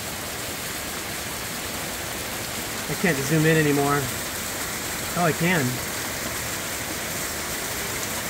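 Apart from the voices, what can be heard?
hail and torrential rain in a thunderstorm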